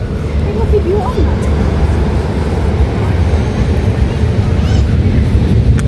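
Waves wash steadily onto a shore at low-to-high tide change, a constant roar of surf mixed with wind buffeting the microphone, with a faint voice briefly in the background.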